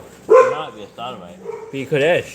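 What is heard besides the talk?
dogs barking, pit bulls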